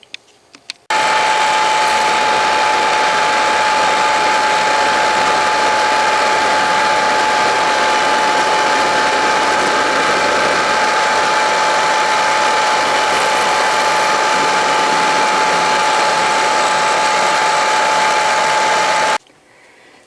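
Milling machine cutting metal for an Atlas lathe tailstock tap holder in a home workshop, a loud, steady mechanical grind with a constant high whine that runs unbroken for almost twenty seconds, then stops abruptly.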